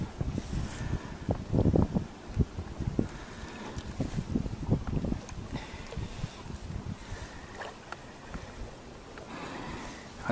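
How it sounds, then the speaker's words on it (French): Wind gusts buffet the microphone while a Klepper folding boat sails along, with uneven rumbling bursts and some water and hull noise, fairly quiet and without speech. "Ah, c'est cool quand il y a du vent."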